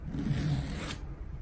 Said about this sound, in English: The zip is thick, metallic, nice and bright, and should be smooth all the way to the bottom.